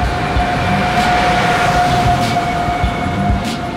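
Inside a railway carriage at a station during boarding, a loud steady rumble and hum fill the space, with a faint tonal whine running underneath.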